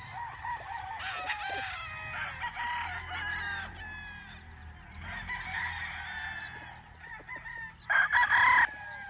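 A Gilmore gamefowl rooster on a farm crows several times at moderate distance over a low outdoor hum, finishing with a louder, sharper crow near the end.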